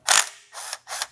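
A ratchet clicks while loosening the bolt holding the cam sensor on a 2005 Subaru Forester engine, three close, distinct bursts of rapid metallic pawl clicking with short pauses between strokes.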